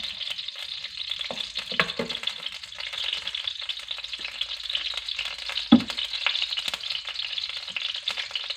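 Oil sizzles in a hot wok for Chinese sausage fried rice, a steady close frying hiss with a few scattered clinks and one sharp knock.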